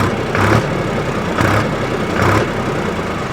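A Mahindra 275 DI TU PP tractor engine, new and emitting some smoke, revs three times in rhythmic surges over a loud, rumbling diesel idle, close and with no talk.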